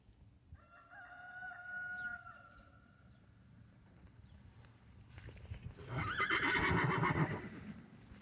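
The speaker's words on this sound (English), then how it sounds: "Horses." On a homestead, a horse gives a clear, drawn-out whinny at moderate distance, followed a few seconds later by a louder, rougher animal call over faint background noise.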